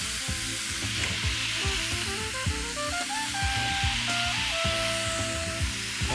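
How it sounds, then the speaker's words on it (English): Garlic dropped into a pan on high heat sizzles and crackles continuously, a steady close frying hiss with faint clinks and stirring, no talking. "And get the garlic in."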